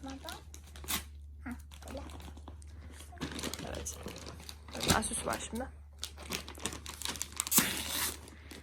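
Plastic gift bag crinkling and rustling as it is opened during New Year present unwrapping, in irregular bursts of crackle close by, with people talking over it.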